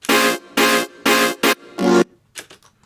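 Layered synth stab and buzz saw synth for a dubstep remix: loud, gritty, bright chords hit five times in a choppy rhythm, then a few faint trailing blips, with no talk.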